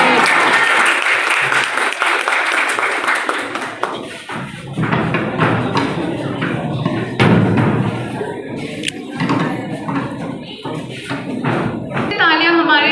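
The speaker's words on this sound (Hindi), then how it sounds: "तालियां हमारे नाटक मंची के लिए।" Audience applause at a Sarhul festival celebration, clapping for a student stage performance: a dense round of clapping from a crowd that thins and swells, with knocks and thumps mixed in and voices in the background.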